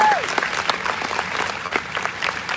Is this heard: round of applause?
yes